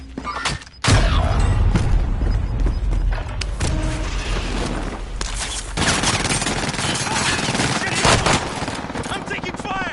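Dense video game gunfire, with bursts of automatic weapons fire and booms, runs loud and nearly continuous with brief gaps, and a player's voice talks over the shooting.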